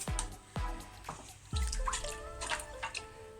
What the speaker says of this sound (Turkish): Bir buçuk tatlı kaşığı da su koyacağım.